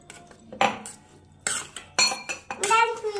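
A spoon clanks and scrapes against a pot while stirring lemon pickle in oil with chili powder. There are four or five sharp, close metallic strokes separated by short pauses.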